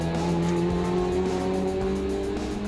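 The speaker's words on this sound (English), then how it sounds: "Let's go for a hot lap in the Ferrari Central Florida 199 488 Challenge Evo car." A Ferrari 488 Challenge Evo race car on a hot lap at Sebring International Raceway, Florida, roars at high revs with a sustained, loud, close engine whine and some pitch shifts; no one talks.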